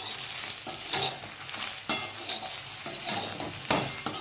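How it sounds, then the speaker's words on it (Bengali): Brinjal seasoned with turmeric and salt is stir-fried in a wok, with soft sizzling broken by about five sharp spatula scrapes and clinks at an unhurried, uneven pace. "আর একটু নুন দিয়ে দিচ্ছি, দিয়ে এটা আমি নেড়ে চেড়ে ভেজে নেব।"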